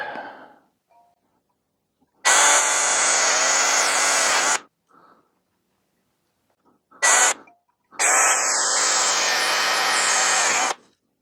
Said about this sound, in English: I'm going to use a 1/4 inch drill bit, but I'm going to start with a pilot hole.